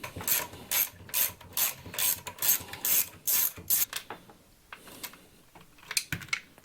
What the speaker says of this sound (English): So we got to take that screw out.